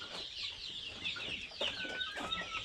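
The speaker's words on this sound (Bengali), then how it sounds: "আমার বড়গুলা টাইগার মুরগিগুলা" Tiger chickens cluck steadily in a warm farm shed, several birds close by making soft, overlapping calls with a few louder squawks.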